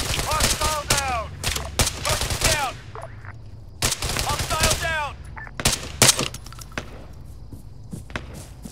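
Gunfire in the military shooter ARMA III, with bursts of rapid automatic fire and single shots cracking loudly in clusters, echoing, while a voice calls out in between.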